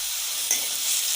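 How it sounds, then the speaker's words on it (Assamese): Sidol chutney (Assamese dried-fish chutney with chillies and tomato) frying and sizzling in a pan with a steady hiss, a brief scrape of stirring in the middle, no voices. "অলপ লৰাম।"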